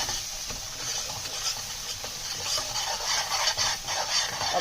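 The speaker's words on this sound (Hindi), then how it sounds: "मैंने जो टमाटर चॉप करके रखे थे वो इसमें शामिल करूंगी" Chopped tomatoes simmering in a pan on a low flame while making Sindhi besan chole, a soft steady sizzle and hiss with light stirring scrapes throughout, no talking.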